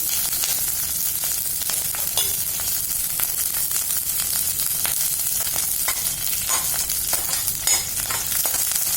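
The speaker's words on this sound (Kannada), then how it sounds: "ಗ್ರೀನ್ ಚಿಲ್ಲಿ ಕೂಡ ನಾನು ಈಗಲೇ ಹಾಕೊಂಡ್ಬಿಡ್ತಾ ಇದ್ದೀನಿ" Green chillies frying in hot oil for vangi bath, with a loud, steady sizzle and crackle and sharp pops scattered throughout, close by and with no talking.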